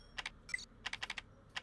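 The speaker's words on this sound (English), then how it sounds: "you might actually hear a bunch of fucking keyboard ASMR. Just to saying, because it's way too close to the mic." Computer keyboard typing very close to the microphone, with quick clusters of sharp, crisp keystroke clicks separated by brief pauses.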